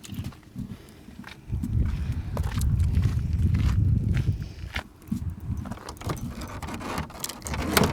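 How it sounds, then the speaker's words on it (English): A set of motorhome keys jangles close by in repeated bursts of metallic clinking, over a low rumbling background, with no speech. "Full set of keys, spare key, master key."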